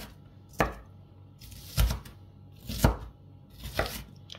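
An onion being coarsely chopped with a knife on a board, four distinct, fairly quiet cuts spaced about a second apart, with no speech.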